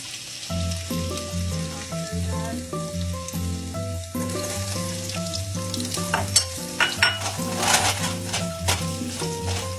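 Garlic sizzles in hot oil in a pan, the first step of Filipino ginisang cabbage. A steady crackling hiss runs under prominent melodic background music for about ten seconds, with a few louder pops toward the end.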